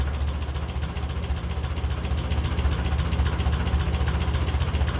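1957 Ferguson 35 tractor running on TVO, its engine idling with a steady low, throbbing chug, close and continuous with a slight rise in revs.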